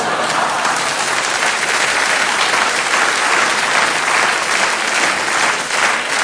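A comedy show audience applauding, a dense, sustained wash of clapping from many hands that holds steady and loud throughout without pause.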